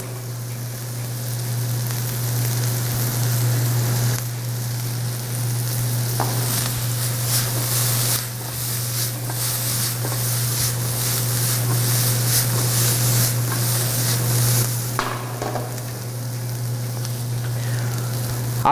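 Fresh shrimp and onion sizzle steadily in a pan in a Northeastern Brazilian cooking class, under a constant low hum, with occasional scraping as the food is stirred.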